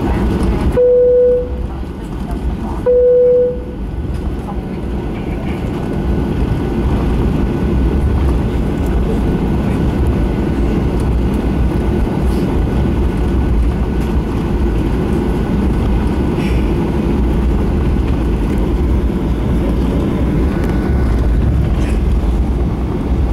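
A Nok Air Boeing 737-800 takes off from Yangon, heard from inside the cabin as a loud, steady broadband engine roar and rumble, with two brief chime tones near the start.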